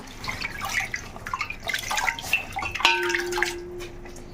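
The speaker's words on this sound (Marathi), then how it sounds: "हे पानं धुवून घ्यायची स्वच्छ आणि नंतर कापायची" Water splashes and drips as taro leaves are rinsed by hand, with small irregular sloshes and a running trickle close by.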